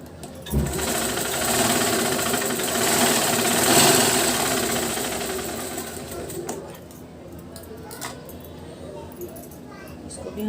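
Sewing machine stitching a double katori blouse, a fast, steady mechanical whir that runs for several seconds and then slows and stops, while someone talks over it.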